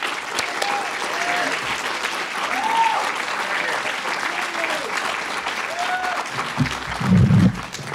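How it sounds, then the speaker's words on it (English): Audience applause at a Stanford conference, a loud continuous wash of clapping with a few voices and a louder burst near the end. "So let's applaud Jill Escher."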